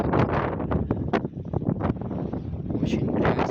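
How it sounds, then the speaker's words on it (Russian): Very strong wind gusting on an open stairway descent on the Anapa coast in winter, a loud, continuous roaring buffet against the microphone, with a voice speaking briefly over it. "Очень сильный ветер."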